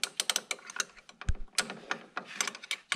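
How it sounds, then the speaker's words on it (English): A regular wrench tightens a sway bar link on a C6 Corvette, giving a quick run of close, sharp metallic ratcheting clicks with a couple of duller knocks in between. "I use a wrench, just a regular wrench, and this, and then you just tighten it up as normal."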